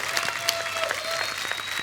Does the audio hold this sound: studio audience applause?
yes